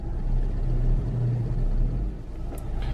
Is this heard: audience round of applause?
no